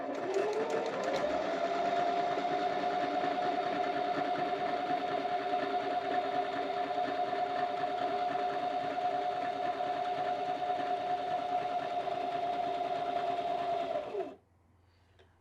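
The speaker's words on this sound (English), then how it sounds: "that's going to reset the buttonhole to do this back bar tack and sew towards the front" A BabyLock Zeal BL35B sewing machine hums steadily while stitching a manual buttonhole, a close, even mechanical whir that speeds up at the start and runs unbroken for about fourteen seconds before stopping abruptly.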